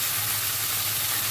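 Cut eggplant frying in hot oil, a steady, dense sizzle and hiss close by, continuous with no pauses and no talking over it.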